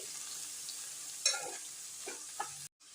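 Cabbage being stirred in a frying pan with a soft sizzle beneath, a couple of spoon scrapes and clinks standing out before the sound cuts off near the end.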